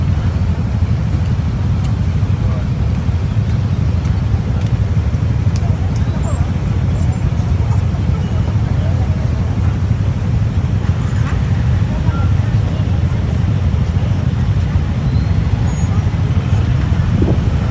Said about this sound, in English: Because there are too many cars, too many motorbikes, too many buses, too many people.